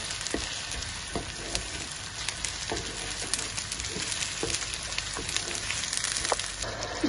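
Onions and dried chillies frying in a pan make a dense, continuous sizzle with scattered small pops and occasional stirring clicks, steady throughout at close range.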